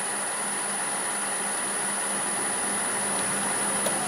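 A wood lathe spins steadily at about 1100 RPM in a workshop, a constant close whirring hum with a thin high whine and no variation in speed.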